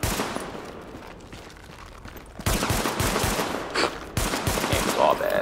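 Bursts of rapid gunfire ring out in Tom Clancy's The Division gameplay, with a quieter stretch giving way to louder, denser volleys and shots near and far.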